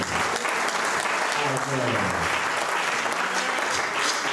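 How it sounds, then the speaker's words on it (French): Church congregation bursting into loud applause and cheers for the Lord during a sermon, a steady wash of clapping with excited voices, lasting a few seconds. "Est-ce qu'on peut acclamer pour le Seigneur?"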